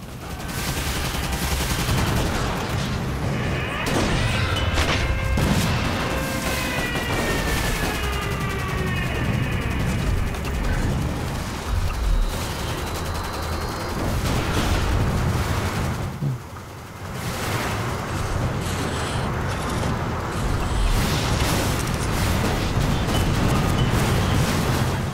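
Anti-aircraft guns firing in the Toy Soldiers: Cold War video game, a dense, continuous rattling barrage of rapid shots with whistling tones, loud and steady throughout, a voice talking over it at times.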